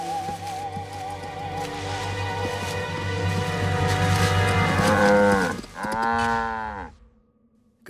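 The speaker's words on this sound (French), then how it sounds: "on a retrouvé ses vaches" Cartoon cattle mooing in a French-dubbed animated episode: a long, loud, drawn-out moo with rising and falling harmonic tones, then a second shorter moo before it cuts to silence.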